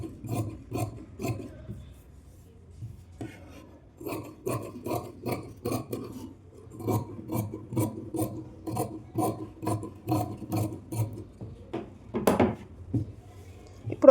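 Scissors cut through blouse fabric in a steady series of crisp, rasping snips, close and rhythmic, with a short pause and a louder final cut near the end.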